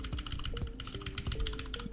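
Fast, even typing on a Ducky Mecha Mini mechanical keyboard with brown switches, a dense close stream of soft clicky keystrokes with a faint tonal hum underneath.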